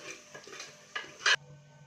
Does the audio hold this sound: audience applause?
no